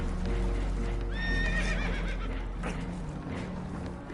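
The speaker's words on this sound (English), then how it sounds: "Horses are spooked, and we're taking on water." Spooked horses in Red Dead Redemption, aboard a holed boat taking on water, give a loud, close whinnying neigh with wavering pitch over a constant low rumble of water and ambience, with clip-clopping movement around it.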